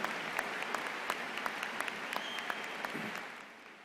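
A large crowd claps at a university commencement ceremony, a steady, somewhat distant patter of many hands that thins out toward the end.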